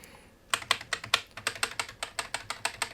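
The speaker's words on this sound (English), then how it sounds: "So that is what typing is going to sound like whilst you're actually speaking." Close, brisk typing on an MSI GK30 keyboard with mechanical-style switches: a steady run of crisp clicky keystrokes starting after a brief quiet moment, alone and with no talking.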